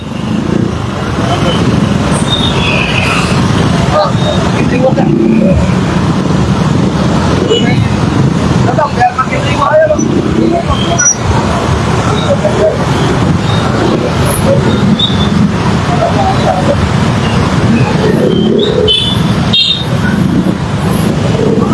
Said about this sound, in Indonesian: Arus lalu lintas dari seluruh arah yang ada di Darmawangsa Square tidak bisa berjalan dengan lancar